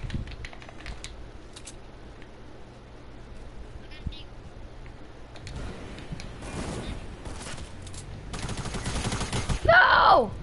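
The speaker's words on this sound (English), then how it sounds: "she's shooting at me" Rapid bursts of gunfire in the Fortnite video game crackle through the second half, growing louder near the end, mixed with game effects and talk.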